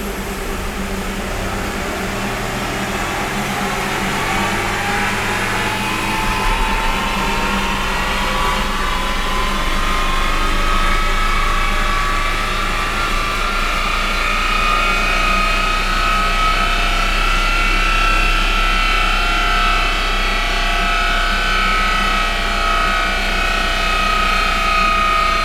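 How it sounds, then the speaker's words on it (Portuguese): A VW Polo revs hard on a dynamometer while the dyno cooling fan runs, the engine tone climbing steadily over a loud constant whoosh of moving air for a long stretch. "Ligar o ventilador do dinamômetro e bora para cima. 3, 2, 1 e puxa."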